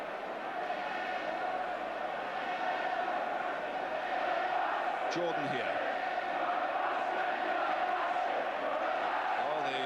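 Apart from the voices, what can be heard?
Ipswich Town football crowd cheering and crying out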